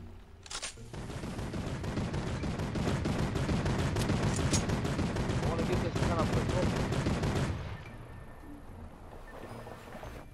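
Rapid gunfire in Fortnite Battle Royale rattles in a dense, steady stream of loud shots for several seconds, then stops abruptly, leaving quieter background sound.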